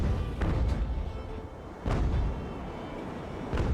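Naval 6-pounder cannons fire in the age-of-sail game Ultimate Admiral: Age of Sail, three heavy booms about every two seconds, each with a rumbling tail that rolls on under continuous low battle noise.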